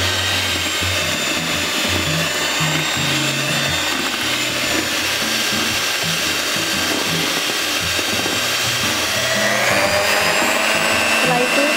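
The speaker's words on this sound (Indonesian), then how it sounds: "Kita mixer lagi." An electric hand mixer whirs loudly and steadily as it beats chocolate cake batter made with Chocolatos for a no-oven sponge. The motor drones without pause throughout.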